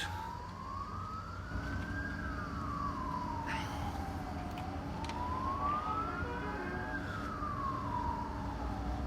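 Wailing emergency vehicle sirens in a Turkish wildfire zone rise and fall in slow sweeps over steady traffic rumble, loud and continuous, with brief higher tones cutting in.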